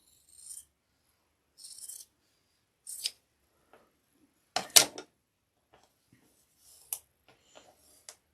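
Quilting fabric trimmed with a cutting tool: a few short, scattered rasping and snipping strokes separated by silences, fairly quiet and close, with a sharper louder cut near the middle.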